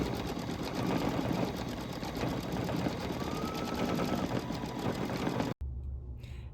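An embroidery machine stitches the stem details of a quilt block in light green thread, a steady, close, fast mechanical whirring that runs continuously before cutting off abruptly near the end.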